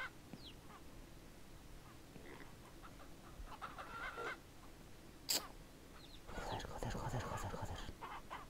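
Chickens cluck intermittently in the farming video game Ranch Simulator, soft scattered calls amid game ambience with a brief sharp click partway through and speech running quietly underneath.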